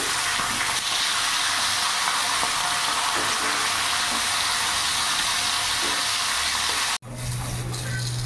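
Fish pieces frying in hot refined oil in a wok after being turned, giving a steady, dense close sizzle that stops abruptly near the end, leaving a low hum.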